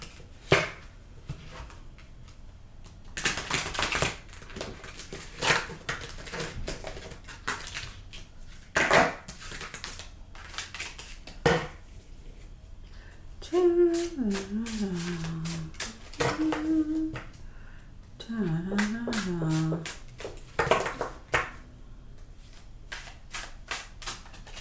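Tarot cards are shuffled in repeated riffling bursts and soft slaps, close and crisp, with a few brief voiced sounds in between.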